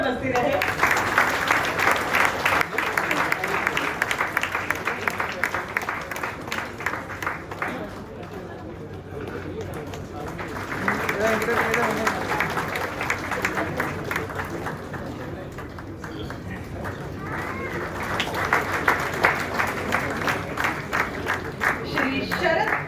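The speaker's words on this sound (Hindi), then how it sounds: "तालियां बजती रहे।" Audience applause at a Railway Board retirement ceremony, sustained hall-wide clapping in waves that swell, dip and return, with a crowd murmur beneath.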